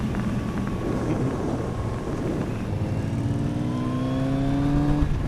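A 2020 Kawasaki Z900RS motorcycle accelerates hard, its close, loud engine note climbing steadily in pitch through the rev range against rushing wind.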